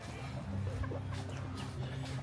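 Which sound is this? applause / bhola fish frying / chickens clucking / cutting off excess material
chickens clucking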